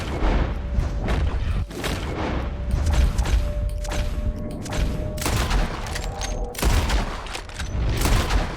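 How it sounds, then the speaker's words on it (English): Rapid volleys of loud gunfire in Red Dead Redemption 2, sharp overlapping shots and booming reports fired repeatedly at a wounded animal, with brief gaps between bursts and faint game sounds underneath. "Not really shooting it in the head there"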